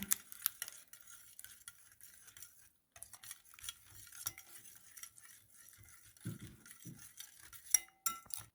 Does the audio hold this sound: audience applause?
no